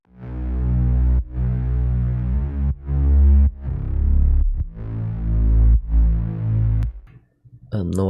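Layered Serum synth bass from an FL Studio melodic dubstep remix, thick and loud, playing sustained throbbing notes in phrases with brief gaps, ending in a short fluttering tail.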